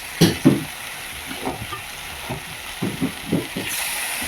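Lote fish dropping into spiced oil with eggplant and potato, giving a few soft sizzling bursts and stirring scrapes close by, with a light frying hiss underneath.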